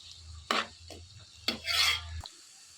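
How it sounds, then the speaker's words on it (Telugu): Dried fish and cucumber pieces cook in a pan, with a low simmering hum under a few separate scraping and clattering stirs, spaced about a second apart, and a brief louder sizzle near the end. "ఎండు చేపలు, దోసకాయ ముక్కలు బాగా మిక్స్ చేసుకొని 1 నిమిషం పాటు మగ్గనివ్వాలి."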